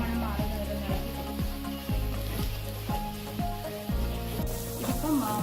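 Chili and coriander powder sizzling steadily in a pan for a Kerala fish masala roast, with a spatula stirring through it in repeated scraping strokes, close and continuous.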